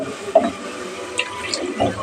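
Water poured into a pot of kurma curry with ground coconut, ginger, garlic and fennel paste, a soft close splashing and trickling that rises and falls over about two seconds.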